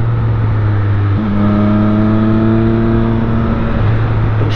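A Triumph Street Triple R motorcycle engine accelerating, its steady close drone rising in pitch through a gear change, loud and continuous with no talk.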